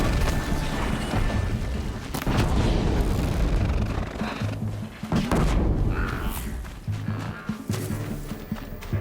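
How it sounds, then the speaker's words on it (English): Explosions in the Horizon Zero Dawn video game boom over a dense, continuous layer of game noise, with sharp blasts near two and five seconds and a loud, busy mix throughout. "Explosion."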